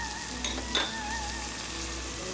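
Onions and carrots fry in a pan for a Chinese vegetable sizzler, giving a steady, even sizzle that runs throughout at close range, with a couple of brief stirring clinks and no talking.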